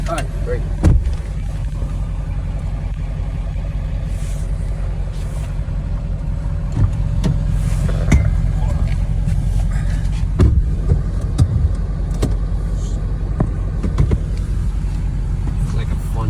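A utility vehicle drives at the Union Glacier runway, its engine rumbling steadily and loudly up close with road and rattle noise throughout.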